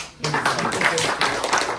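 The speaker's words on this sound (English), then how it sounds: "Round of applause for this fine gentleman and his incredible blackjack skills" An audience applauds at a close-up magic show, a short patter of clapping from several people with voices mixed in.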